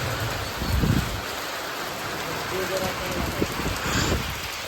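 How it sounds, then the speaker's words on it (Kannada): Steady broadband hiss of rain pouring down, dense and continuous, with a few louder bursts and faint voices underneath. "ಗೈಸ್ ಮಳೆ ಯಾವ ತರ ಬರ್ತದೆ ನೋಡಿ"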